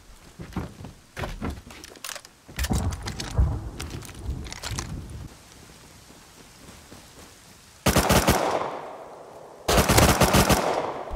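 Rapid bursts of gunfire in the survival game Rust, several clusters of loud shots early on, a quieter stretch, then two sharp, heavy volleys near the end.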